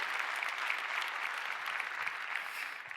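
A church audience applauds a serving team, a dense, even wash of clapping that holds steady for a few seconds with no voices over it.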